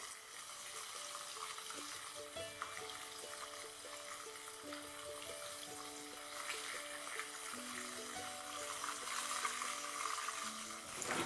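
Fish fries in oil in a kadai with a steady close sizzle and crackle, while gentle tonal music plays underneath throughout.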